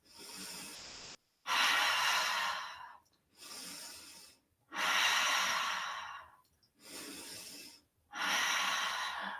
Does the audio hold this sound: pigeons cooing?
no